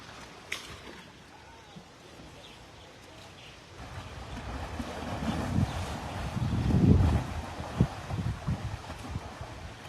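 Wind gusts build during a darkening rainstorm by the water, a low roaring rush that swells louder toward the middle and stays broad and steady, with faint voices in the background.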